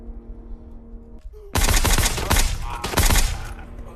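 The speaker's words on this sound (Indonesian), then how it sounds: "Mendengar suara tembakan lagi" After a quiet hum, a loud, rapid burst of film gunfire erupts at a factory, dense overlapping shots continuing for a couple of seconds.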